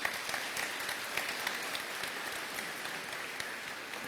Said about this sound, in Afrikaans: kom ons gee vir hulle lekker hande klap toe